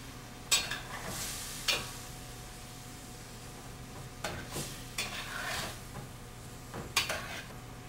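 Pieces of fish go into a thick gravy in a pan, with a steady low sizzle and several sharp scraping stirs of a utensil spaced out over the stretch, close and fairly quiet, no talking.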